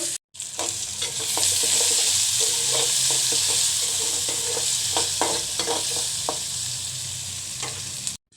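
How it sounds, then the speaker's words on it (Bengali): Dried fish and onions frying in a hot pan with a loud, continuous sizzle, punctuated by repeated stirring clatters and scrapes, close up with no talking. "পেঁয়াজটা ভেজে নিছি, দিয়ে দেব শুটকিগুলো একটু ভেজে নেব।"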